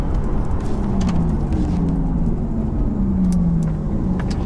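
Porsche Taycan Turbo electric car cornering on a race track under light throttle, a steady loud rolling drone with gently shifting tonal whine throughout, no talking.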